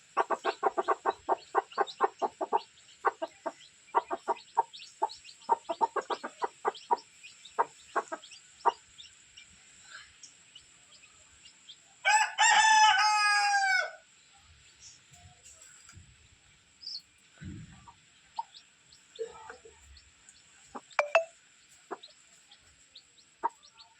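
Soft, rapid clucking from a small hen close by, with faint peeping from her chicks mixed in and a brief burst of louder squawking midway.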